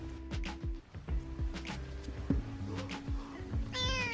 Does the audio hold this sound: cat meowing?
yes